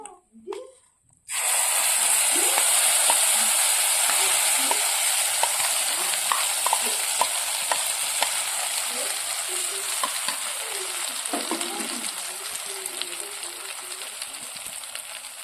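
Mashed green peas dropped into hot mustard oil with nigella seeds, a sudden loud sizzle after a brief quiet start, then continuous crackling frying with scattered stirring scrapes that slowly eases.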